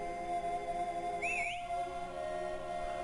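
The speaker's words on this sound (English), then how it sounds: "That was the signal whistle sound effect from Briggs's move." Signal whistle sound effect from the Golden Sun 2 video game: a brief rising-and-falling whistle chirp over steady game background music, heard once without speech.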